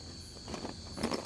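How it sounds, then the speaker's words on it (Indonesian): Crickets chirp in a steady high-pitched drone, with faint soft shuffling underneath, quiet and continuous. "Ini suara apa sih namanya? Jangkrik ya."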